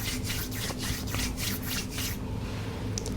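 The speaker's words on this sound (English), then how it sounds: "Rub your palms together," Palms rub briskly together in a rhythmic series of about half a dozen dry, close swishing strokes, then stop, with no talking.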